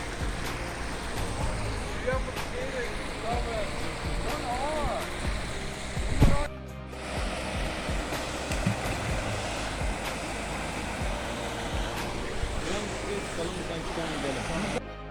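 Water rushes steadily from a flowing waterfall beside an old bridge, a constant broadband wash heard from close by, while someone talks over it and a brief louder knock cuts through midway.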